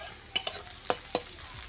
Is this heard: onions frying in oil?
yes